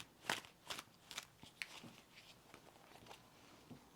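Tarot cards being shuffled and drawn: several quick riffling, flicking card sounds close by in a quiet room, with no talking.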